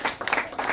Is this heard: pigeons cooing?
no